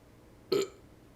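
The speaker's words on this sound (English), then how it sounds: "Excuse me, I couldn't get the burp that I was trying to get out." A single short burp, close and abrupt, rising out of near silence and fading within about a tenth of a second.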